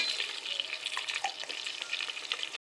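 Cinnamon, bay leaf and cloves fry in coconut oil as a base for prawn biryani. Soft, close crackling sizzle is dotted with small pops and spits, steady and fairly quiet, with no speech.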